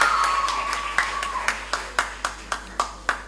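A small group at a primary-school Kweyol spelling bee claps in a steady rhythm, about a dozen crisp, evenly spaced claps, close and moderately loud, with a faint hum and a brief tone underneath.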